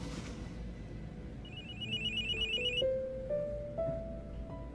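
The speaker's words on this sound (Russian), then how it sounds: "У тебя телефон звонит." A telephone ringtone plays in a comedy film scene: a melodic electronic tune of stepped tones repeating over a low background hum, with no speech.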